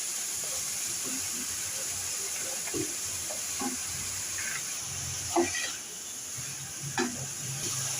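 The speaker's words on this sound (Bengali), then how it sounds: "ঘি দিয়ে ভেজে নিচ্ছি গাজর কি গাজর আর মরকুটিটা ভেজে নিচ্ছি" Carrots and peanuts fry in ghee with a continuous close sizzle, broken by occasional scrapes and clinks of stirring in the pan.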